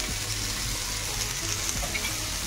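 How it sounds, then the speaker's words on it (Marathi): Rava uttapam frying in oil in a pan gives a close, steady sizzle with soft crackle throughout, and no voices. "छान असं प्रेस करत आपण याला दुसऱ्याही वाणाला छान भाजून घेणार आहोत"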